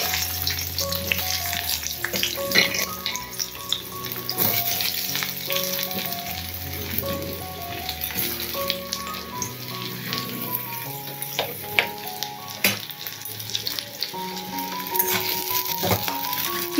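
Steady hot-oil sizzling and crackling of duck meat frying in a kadai, continuous and fairly close, with occasional clinks of a utensil stirring in the pan.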